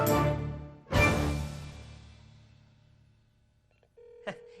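Two loud struck tones ring out and decay slowly, followed by a short steady telephone tone with a click, fairly close and otherwise quiet.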